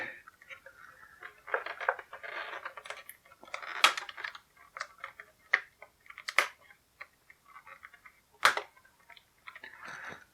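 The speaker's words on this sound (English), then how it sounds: "So we're going to get our X-Acto knife out and slice those rubber bands real quick." An X-Acto knife slices through rubber bands holding a Star Wars battle pack toy inside its packaging, giving close, sharp snaps and scraping ticks in irregular bursts with quiet gaps between.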